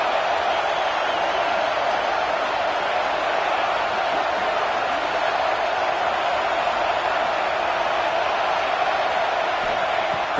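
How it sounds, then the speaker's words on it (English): A stadium crowd at a football game roars in a dense, continuous wash of cheering, loud and unbroken from start to end. "It's early, but this crowd is fired up. Listen to this noise here."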